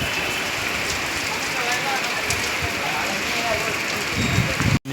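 Heavy rain pouring down on a road, a dense continuous hiss and patter of drops on surfaces, close and steady for several seconds before a sudden brief dropout at the end.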